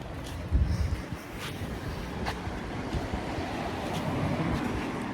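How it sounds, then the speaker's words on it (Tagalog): Cold wind gusting across an outdoor microphone, a broad rough rumble that swells and eases, with faint distant sounds beneath it. "Yung malamig na tas humahangin pa."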